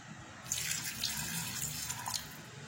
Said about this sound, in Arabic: كنضيفو واحد الكاس صغير ديال الماء